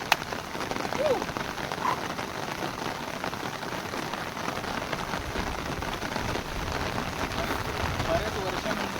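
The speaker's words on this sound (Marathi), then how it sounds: "आज बऱ्याच वर्षानंतर मी पावसाचा आनंद घेतो." Steady monsoon rain patters near a waterfall in a rural spot, a dense even hiss of drops close to the microphone, continuous throughout with a voice occasionally speaking over it.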